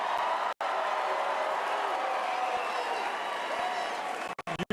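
Large rally crowd applauding steadily at a distance, a dense wash of clapping with a few brief dropouts near the end.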